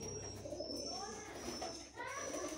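Soft pigeon coos rise and fall repeatedly against a steady background hum, with faint chirps mixed in, as if heard inside a bird enclosure.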